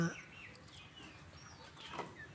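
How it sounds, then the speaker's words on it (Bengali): Laying hens in a farm coop give short, soft clucks and calls against a low background, with faint voices nearby in a brief moment. "আর এদিকে আছে ডিম পাড়া মুরগি"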